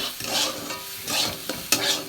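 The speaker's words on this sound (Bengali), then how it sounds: "চালের সাথে একসাথে কিশমিশটা ভেজে নেব" Raisins and rice are toasted together in a pan with a little fat and bay leaves, rhythmic scraping stirs sweeping through a gentle sizzle, close up, with a few sharper knocks of the spoon against the pan.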